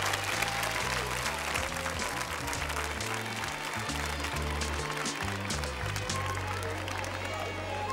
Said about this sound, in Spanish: Y un fuerte aplauso de todos los niños